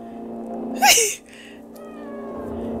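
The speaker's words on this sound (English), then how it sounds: "I, I agree, Jackie the cat" A cat lets out a single loud meow, rising then falling, close to the listener, followed by a softer trailing sound against a low steady background hum.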